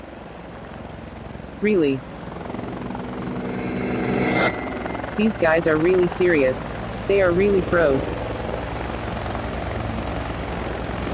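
A searching helicopter's steady rotor drone hums throughout, loud and close, while someone speaks over it in short bursts.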